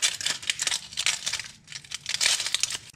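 An onion is peeled by hand, its dry papery skin giving bursts of close crinkling and crackling in irregular clusters with short pauses between.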